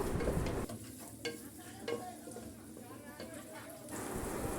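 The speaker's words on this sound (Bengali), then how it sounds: "এই যে এখন আমি পেঁয়াজ দিয়ে দিলাম পেঁয়াজটা দিয়ে আমি বেজে নেব" Chopped onions hit melted butter in a pan while chicken biryani is being cooked. A close, bubbling sizzle rises, dips briefly as the onions are stirred with scattered scraping clicks, then swells again.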